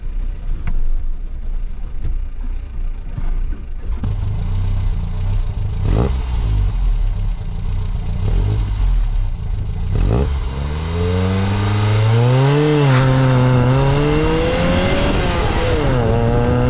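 A SEAT Marbella small city car accelerates hard on a test track, its engine rising through several revving pitch sweeps and gear changes, loud and close with no talk.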